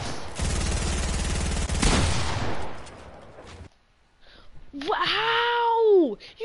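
Rapid automatic gunfire crackles in a 1v1 video game match between brothers for a few seconds, then stops; after a short quiet, a person gives a loud, wailing, drawn-out vocal cry.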